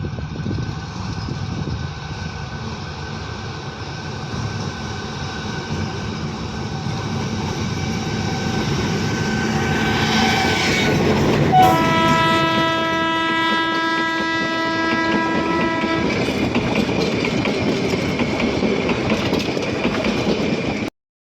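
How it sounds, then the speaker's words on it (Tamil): Mountain railway train near Ooty rumbling past close by with steady rolling clatter, its horn blaring in a long, loud blast midway through before the rumble continues. "நாங்கள் போன நேரம் பார்த்திங்கன்னா மலை ரயில் வந்ததுங்க"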